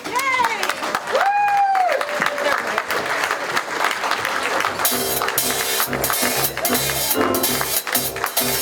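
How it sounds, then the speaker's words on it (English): Audience applause welcomes a singer at a performer showcase: a dense, sustained roar of clapping and cheering from a crowd, loud and continuous, with a few whistle-like tones and voices early on. "Give a round of applause."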